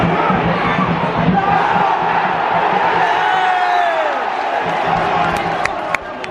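Football match crowd at Huddersfield Town roaring and shouting for a penalty, a dense, loud, sustained wall of voices swelling then easing slightly near the end.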